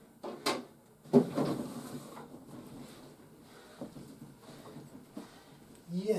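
A Thundercats Ultimates Cats Lair toy playset's plastic door is opened up close, giving a few short clunks and scraping knocks at a moderate level with quiet handling noise between them.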